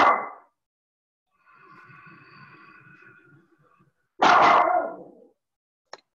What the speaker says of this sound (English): These are dogs.